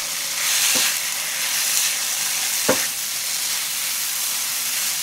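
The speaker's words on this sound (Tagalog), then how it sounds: "Bale, 2 tasang kanin ang isasangag ko." Two cups of cooked rice fry in a hot pan with two spoonfuls of oyster sauce, giving a steady close sizzle and hiss with a couple of brief stirring scrapes, no voices.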